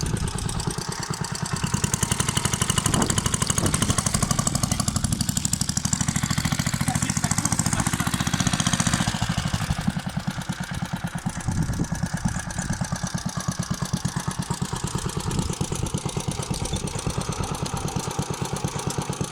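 A Staub PPXS6 two-wheel tractor with a Bernard W239 engine runs steadily close by, a loud, even, rapid knocking engine note that eases slightly partway through, with no talk.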